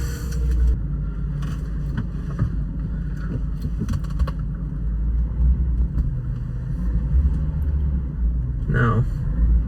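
A BMW 545i with a manual gearbox, running on thicker oil, drives along with a steady low engine and road rumble inside the cabin, while a person talks over it.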